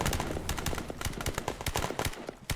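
An invisible bot fires repeatedly in the video game Glory To The Heroes, a dense irregular run of sharp shots and bursts, loud and steady, with no voices.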